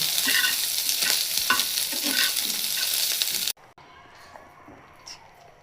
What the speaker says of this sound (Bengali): দেখুন খুব সুন্দরভাবে আমি এগুলো ভেজে নিচ্ছি।